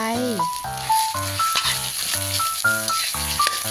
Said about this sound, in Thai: ผัดหมูสับให้สุกนะคะ ใช้ไฟปานกลางนะคะ